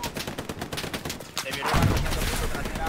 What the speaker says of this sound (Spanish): ¿nos dispara el Panzer?